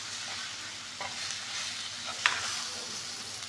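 Masala spices frying and being stirred in a pan for a country chicken sambar, a soft steady sizzle with faint scraping strokes and one small clink, close and fairly quiet, no voices.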